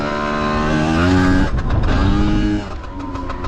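Chinese Piwi 80 mini motorbike, a clutchless three-speed, revving hard in second gear for a wheelie. The buzzy engine climbs in pitch, dips briefly, then surges again before easing off, loud and close.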